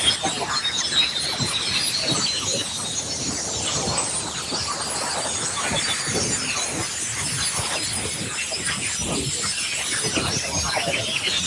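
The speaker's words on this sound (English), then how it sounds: "So this is the sound of aurorae here on Earth." Aurora radio waves converted to sound, a dense, continuous crackling hiss full of rapid static-like clicks and faint chirps, steady and fairly loud throughout.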